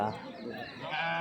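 Sheep bleat at a weekly sheep and goat market in Kadiri, with a large sheep calling loudly and nearby over steady crowd noise while people talk.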